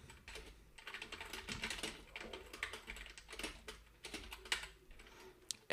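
Code being typed on a computer keyboard, a rapid irregular run of close, crisp key clicks with brief pauses, no voices.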